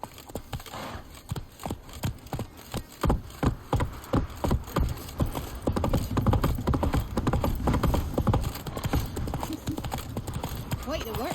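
Horse hooves clip-clopping on a hard path in The Witcher 3, a quick run of close, sharp, evenly paced strikes with speech heard over part of it.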